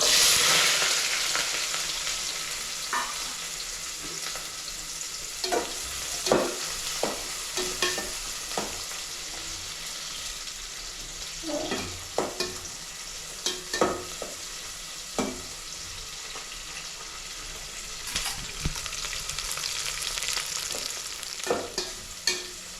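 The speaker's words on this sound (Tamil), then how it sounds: "எண்ணெய் சூடாயிட்டு வெங்காயம் பூண்டு பச்சை மிளகாய் மூணையும் சேர்த்துக்கிறேன்" Onion, garlic and green chilli hit hot oil with a loud initial sizzle that settles into a continuous crackle, punctuated by repeated scraping stirs of a utensil against the pan throughout; no voices.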